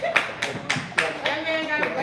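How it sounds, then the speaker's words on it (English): A small group claps to welcome a guest onto a talk show set, several sharp bursts of applause in an uneven rhythm, close and fairly loud, with voices chattering underneath. "Let's clap it up like they do on TV."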